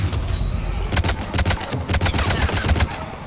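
Rapid bursts of gunfire from a firefight in Mass Effect 3, loud sharp volleys and machine-gun rattles repeating irregularly over about three seconds with no talk.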